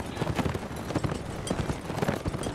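Horse hooves clip-clop in rapid rhythm during a cavalry charge in the video game Mount and Musket, loud and close amid battle noise.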